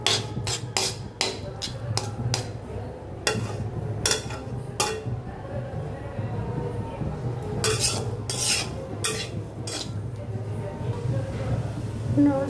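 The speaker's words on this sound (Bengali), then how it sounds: "নুডলসটাকে নেড়ে ছেড়ে বারবার নেড়ে ছেড়ে সুন্দর করে 5 মিনিট ভেজে নিব" A spatula clanks rhythmically against a pan as noodles are stirred and fried, with bursts of rapid metallic scraping and a low background hum under a speaking voice.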